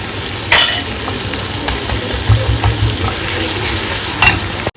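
Crushed garlic and chillies hit hot oil in a pan, giving a steady close sizzle with occasional stirring scrapes and a sharper burst near the start, and no talking.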